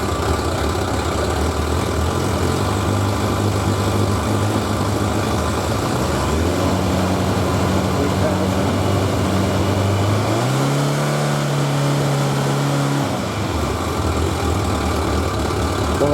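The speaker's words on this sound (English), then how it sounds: "Okay, so we're running again. This is about 1000 RPM." A motorcycle's 1100G engine idles steadily at about 1000 RPM, a constant close, loud drone with a low hum whose pitch shifts briefly near the end.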